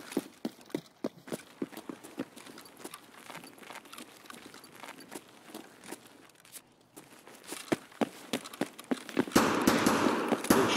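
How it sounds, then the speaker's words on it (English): Sharp gunshots crack in irregular bursts in Escape From Tarkov on the Shoreline map, some near and some farther off, growing louder and denser toward the end. "Gunshots."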